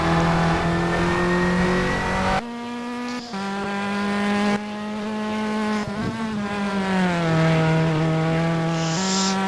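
Peugeot 306 race car engine in a hillclimb racing game, a loud, continuous high-pitched whine that rises and falls with gear changes and revving throughout, alone with no voices.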